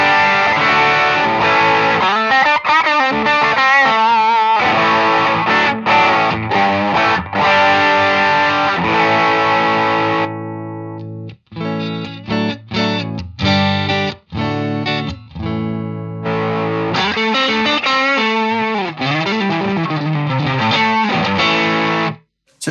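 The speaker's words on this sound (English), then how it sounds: "So it's quite obvious when the drive gets kicked on there." Electric guitar played through an IK Multimedia X-Space reverb pedal, shifting from clean tones to overdrive, loud and continuous with sustained chords and lines, a sparser, choppier passage in the middle, then full driven playing again until an abrupt stop.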